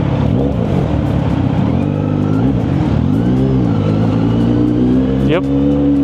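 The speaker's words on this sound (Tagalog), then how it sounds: "So damdamin nyo na lang yung traffic sa EDSA." Heavy traffic on EDSA recorded from a big bike on a shared lane, with engines droning and revving loudly and continuously close by while someone talks over the road noise.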